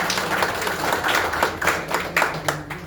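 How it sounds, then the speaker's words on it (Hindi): A seated audience at a business presentation claps in a short round of applause, the claps quick and irregular, fairly close and loud. "एक जोरदार तालियां।"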